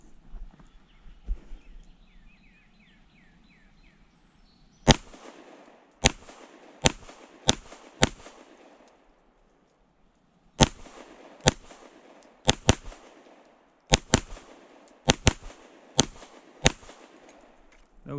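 A Fusion Firearms XF PRO striker-fired pistol fires about fourteen sharp, loud shots in irregular clusters. The shots come with short pauses between them, and one longer gap falls near the middle. Faint background noise sits under the reports, and no one talks.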